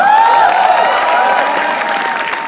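Loud audience applause and cheering at a comedy roast show, a dense wash of clapping with shrill whistles rising and falling, fading slightly toward the end.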